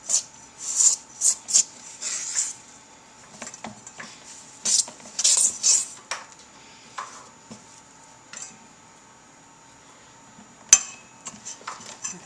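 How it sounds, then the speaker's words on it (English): A utensil beats and scrapes through a thick casserole dough tinted with yellow food coloring in a bowl, making bursts of rhythmic metallic clatter that come and go with quieter gaps and one sharp knock. "we just want to beat this around until it's all mixed in"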